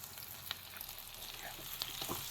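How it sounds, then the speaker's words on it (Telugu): Boiled potatoes and green chillies fry in hot oil with tempering seeds, giving a soft, continuous sizzle and crackle, with a few small pops and faint stirring scrapes, quiet and close. "ఉడికించుకున్న బంగాళదుంపలను కూడా వేస్తున్నాను."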